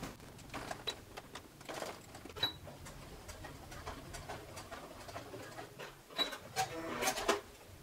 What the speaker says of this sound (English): we're gonna do a very narrow stitch right across there to hold this slider on